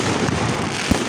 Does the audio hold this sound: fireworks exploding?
yes